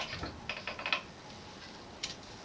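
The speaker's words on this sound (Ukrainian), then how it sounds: "Беремо викрутку і відкручуємо той болт." Screwdriver working loose a stuck bolt under a bathroom sink, quiet clustered clicks and ratcheting scrapes in quick bursts, then a pause and a final click, close and faint.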